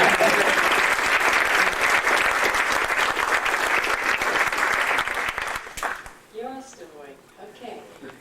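A large audience applauds at the 1998 National Space Society awards ceremony, marking an award for Carl Sagan. The applause is full and steady for about six seconds, then tapers off into a lone speaking voice.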